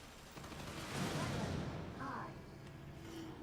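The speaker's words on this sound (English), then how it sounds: "Then we have Missile Swarm, which is something like this." Missile Swarm ability in Solstice Chronicles: MIA firing a rapid cluster of rockets, a rushing whoosh that swells into a rumbling burst of overlapping blasts, then fades with scattered crackles, at moderate loudness.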